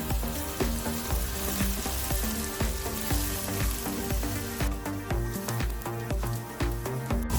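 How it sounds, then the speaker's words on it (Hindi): Continuous crackling sizzle of garlic slices sautéing in a hot pan, with occasional clinks and stirring sounds, close and steady throughout. "इनको भी हम अब हल्का सा सौते करेंगे, हल्का सा कलर देंगे।"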